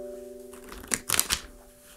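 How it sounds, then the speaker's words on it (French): A deck of playing cards is riffle-shuffled close by, with a few quick bursts of fluttering card snaps against a faint, steady hum. "Pour cela, je commence par mélanger mon paquet."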